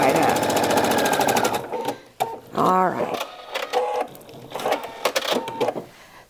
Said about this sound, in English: So I'm just going to go ahead and stitch this side up.